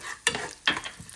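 Urad dal fries in hot oil for lemon rice and is stirred twice, each stir giving a sharp, close scrape followed by a burst of sizzling that quickly fades.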